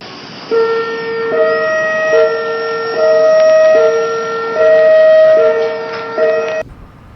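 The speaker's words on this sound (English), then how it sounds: "This is the all clear siren." A loud electronic all-clear siren plays a repeating pattern of steady tones, stepping between pitches in long sustained blasts, then cuts off abruptly near the end.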